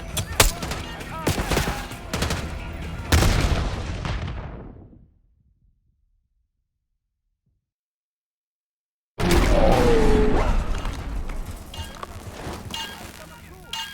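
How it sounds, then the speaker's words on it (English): Intense gunfire exchange in a Black Ops 6 campaign battle, dense bursts and loud shots with shouted voices, cut by several seconds of total silence before the firefight resumes at full volume. "Exchanging fire! Take them down!"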